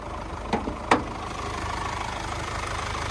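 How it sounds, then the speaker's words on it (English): A 2-liter inline-4 twin-turbo engine idles in a 2023 Mercedes-Benz Sprinter limo, producing a steady low hum with two short knocks or clicks near the start, heard without talk. "But there's that 2-liter inline 4 twin turbocharged."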